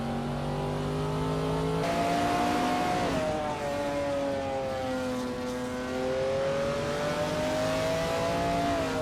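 A 1995 Dodge Viper RT10 supercar races in a video game, its engine note revving up and down steadily under acceleration and gear changes, loud and close throughout.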